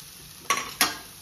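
Vegetable stuffing for an egg paratha, seasoned with chaat masala, sautéed in butter in a pan; two sharp stirring scrapes stand out over a faint, steady sizzle.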